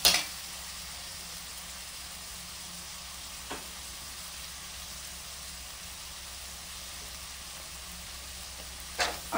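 Oil sizzles in a pan as something fries, a steady soft crackling hiss that carries on evenly with a few light clinks of a utensil, fairly quiet and without any voice.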